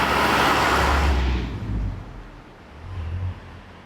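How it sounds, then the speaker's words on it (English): A car drives past outdoors, its broadband road noise loudest at first and then fading away, leaving a low rumble that swells briefly once more before settling. "after this car goes by"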